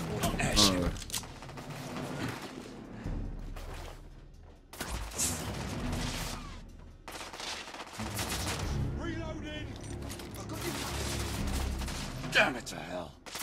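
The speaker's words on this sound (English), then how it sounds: "Oh no, shotgun." Shotgun blasts in The Order: 1886 boom in several heavy bursts spaced a few seconds apart, loud and close amid rattling gunfire and combat noise.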